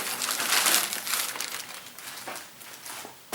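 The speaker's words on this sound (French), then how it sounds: "Alors, on a de la super protection. Ça déchire." Protective packaging being torn and crinkled off vintage toys during an unboxing, a loud continuous close-up rustling and crumpling with a sharper burst near the end.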